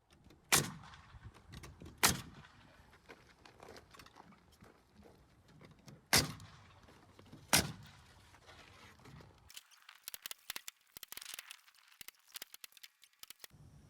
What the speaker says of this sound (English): you just put down some nails with the pneumatic gun